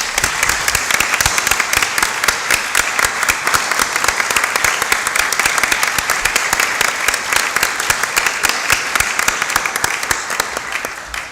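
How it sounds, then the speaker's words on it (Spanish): Dense, sustained applause from the audience at an academic panel on algorithmic ethics and equity, loud and steady for about eleven seconds with no speech on top. "¿Le podemos dar un aplauso?"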